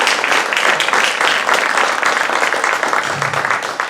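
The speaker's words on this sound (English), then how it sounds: "So I really want to give a huge applause," A gathered audience at an AGM applauds with sustained, loud clapping from many hands, close and continuous throughout with a faint voice briefly underneath near the end.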